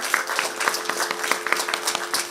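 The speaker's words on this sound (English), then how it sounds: "A round of applause, please." Audience applause at an arangetram dance performance, a fairly thin, moderately quiet patter of clapping with distinct individual claps ticking through, steady across the couple of seconds.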